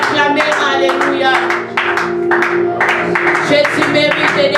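A church congregation claps and cheers for Jesus during a worship service, with sustained loud rhythmic clapping mixed with voices and music throughout.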